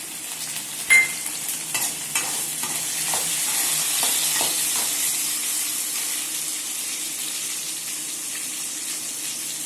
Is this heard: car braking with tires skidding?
no